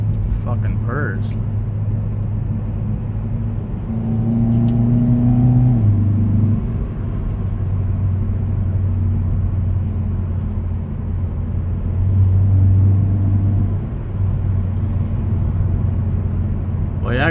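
Close, steady intake drone from a 2018 Hyundai Elantra 2.0 engine while driving, with pitch climbing and falling through two gentle acceleration surges before it settles to an even hum.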